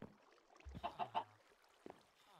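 Chickens in a Minecraft SkyBlock farm on CubeCraft, a few quiet clucks in a quick cluster followed by one more faint cluck.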